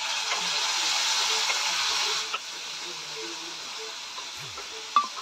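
Tomato and onion sauté in a pan with ginger, garlic and green chilli, giving a steady broadband sizzle that drops to a quieter hiss after about two seconds, with a few faint clicks.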